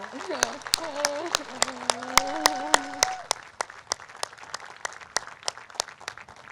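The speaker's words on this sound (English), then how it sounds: "Let's have one more round of applause for these extraordinary students, faculty, and staff." Applause from the audience at a 2016 Penn Graduate School of Education commencement ceremony, joined by a few sharp claps, with a voice speaking over the first half before the clapping goes on alone.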